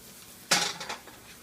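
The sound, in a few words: cooking garlic with onions in a pan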